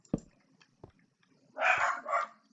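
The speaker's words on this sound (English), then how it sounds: "Starts barking at some random stuff." Indoors, a dog gives two short sharp yips followed by two longer, louder barks, moderately near, with quiet pauses between.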